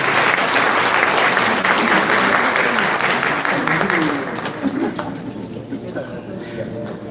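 A crowd applauds loudly at an awards ceremony in a hotel ballroom, with dense, steady clapping that thins and softens toward the end.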